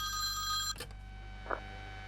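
A telephone rings in the phone horror game Ring Ring, a bright electronic trill that holds steady, then cuts off abruptly with a click, leaving a low hum and a faint blip.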